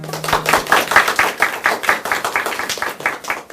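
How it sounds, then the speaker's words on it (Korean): A lecture audience claps at a talk on Korean name study: a steady, moderately close patter of many hands, even and unbroken throughout with no voices. "박수가 참 인색하시네요"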